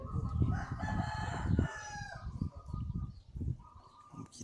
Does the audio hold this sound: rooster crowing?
yes